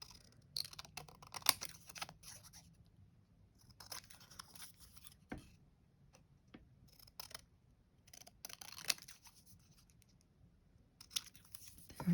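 Scissors cutting paper for a craft tag project, a series of crisp close snips in irregular clusters with quiet pauses between, alone without talk.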